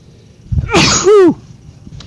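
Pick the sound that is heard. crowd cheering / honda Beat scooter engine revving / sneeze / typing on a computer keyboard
sneeze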